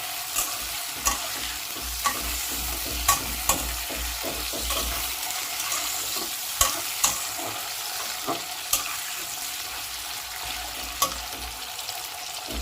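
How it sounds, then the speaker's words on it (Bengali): Potato and papaya cubes stirred in a frying pan for a Bengali vegetable morich jhol, a soft continuous sizzle broken by sharp spatula scrapes and knocks every second or so, close and alone with no talk. "আমি সবচেয়ে প্রথমে আলু আর পেঁপে দিয়ে একটু নাড়াচাড়া করে নেব।"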